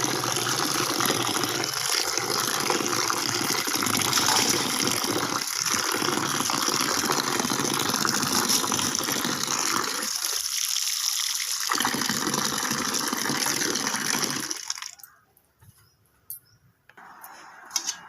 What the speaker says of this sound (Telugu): గోంగూరని కడగాలి.